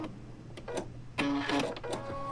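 A sewing machine stitches a quilt block along a marked line: a few short motor bursts, then a steadier whirring run of stitching in the second half, close and fairly loud.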